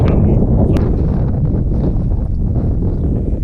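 Steady, loud wind buffeting the microphone beside a river and marshland in the Nene Valley, with a constant low rumble, no voices, continuous throughout.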